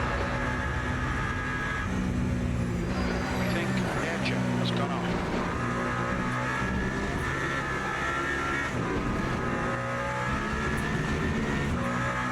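Race cars, a Peugeot among them, roar steadily in the Le Mans Ultimate sim, with layered engine tones rising and falling and a few high whines as rival cars close in and pass.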